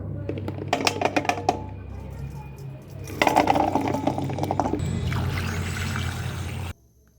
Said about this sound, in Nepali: लप्सीलाई पानीमा राम्रोसँग धोई पखाली गर्नुपर्छ